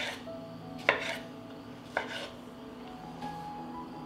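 A knife chops through washed, cored tomatoes into large chunks, giving two or three distinct cutting knocks against a board, spaced about a second apart and fairly close, with quiet room noise between them.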